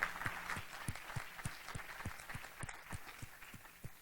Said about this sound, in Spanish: Un aplauso, por favor, para Alejandro Villegas.